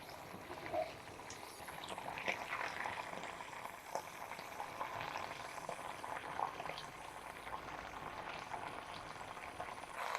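A thick mixture with added juice bubbling and crackling steadily in a pan on the stove, a continuous busy simmer with small pops throughout and no talking.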